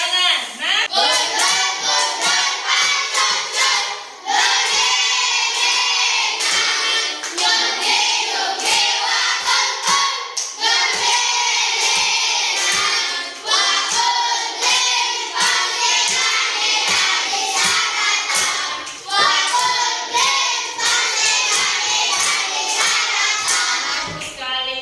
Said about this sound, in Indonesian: Masih ingat lagu daerah Gundul-Gundul Pacul? Sambil tepuk tangan.